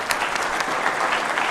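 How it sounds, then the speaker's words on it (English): Loud, dense applause from an audience at the Kenya-European Union Business Forum in Nairobi, sustained clapping throughout without a break. "A round of applause for His Excellency."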